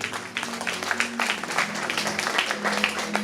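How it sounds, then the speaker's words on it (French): A church audience claps for a couple standing at a pastor's seventieth-birthday celebration, lively scattered applause with a sustained low tone beneath, some voices mixed in. "On applaudit pour eux."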